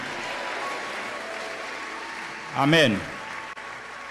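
A congregation at a French-language Sunday church service applauds softly in the background, a steady, fairly faint wash of clapping while a voice briefly speaks a word over it near the end.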